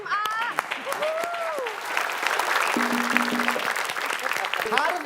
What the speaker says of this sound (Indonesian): Boleh kita beri tepuk tangan untuk tim A.